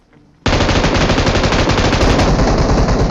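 Automatic gunfire in PUBG Mobile bursts in suddenly after a quiet start and keeps rattling as loud, rapid, continuous shots while enemies are knocked down.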